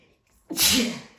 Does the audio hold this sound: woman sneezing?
yes